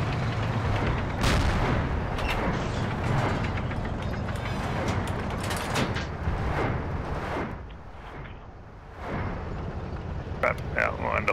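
Gunfire and heavy cannon blasts in the WWII shooter Forgotten Hope 2 on the Arad map, with loud repeated booming shots around a T-34 tank over rumbling battle noise, thinning briefly before a few sharp cracks near the end.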